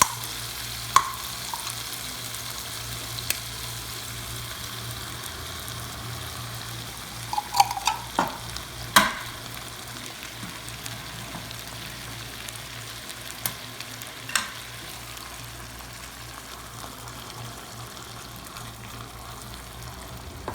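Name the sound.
sardines added to sautéed tomatoes frying in pan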